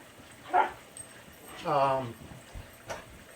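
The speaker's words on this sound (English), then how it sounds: "puppies are playing in the background" Puppies playing nearby, giving a few short high yips and whimpering cries in brief bursts, with quieter gaps and a faint background hum between them.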